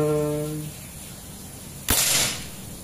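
A single sharp shot from a Predator Mini Phyton air rifle at 2700 psi cracks out after a short pause, sudden and loud, then fades with a brief hiss of ambience.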